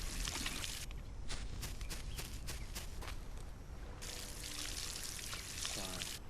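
Plants are watered in a solarpunk sky-island video game with a steady pouring, splashing water sound, broken by a run of soft footstep-like taps before the pour resumes.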